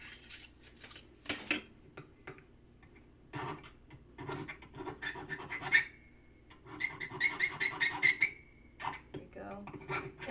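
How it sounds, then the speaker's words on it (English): A needle file rasps over metal pieces to take off burrs and refine their shapes, giving short intermittent scraping strokes with a few squeaky, ringing passes, close up and mostly alone. "I'm going to pull out a needle file here too."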